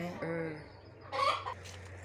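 Native country-breed hens cluck close by, a few short throaty calls, then a louder squawking burst, over a steady low background hum.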